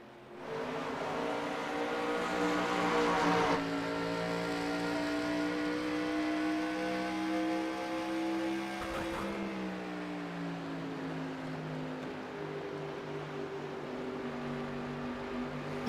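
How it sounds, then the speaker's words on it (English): Several roaring NASCAR stock car engines in the iRacing video game drone steadily with shifting pitch at Nashville Superspeedway, loud and continuous, one engine note sliding downward midway. "Let's just listen to these car engines for a minute."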